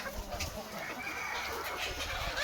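Fighting roosters and chickens cluck and call at a moderate distance, short broken bursts over a steady rustling background.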